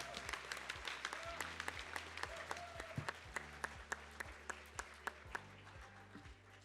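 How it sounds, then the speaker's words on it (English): A school Decision Day audience claps for program participants, a dense, sustained round of applause from a large crowd in a hall, steady and fairly distant with sharp individual claps standing out. "let's give all of our MCTI participants a big round of applause"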